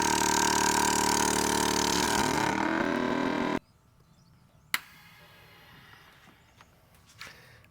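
A VEVOR vacuum sealer's loud, steady motorized pump drones for several seconds, then cuts off abruptly, followed by a sharp click and quiet handling noises.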